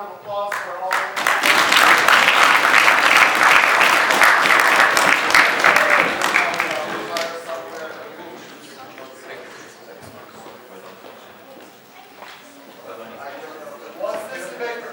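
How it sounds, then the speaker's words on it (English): Audience applause for debaters at a debate tournament final in Kyiv, loud sustained clapping for several seconds that fades to a lighter patter with scattered claps and some background chatter. "Everyone, please join me for one round of applause for all of you."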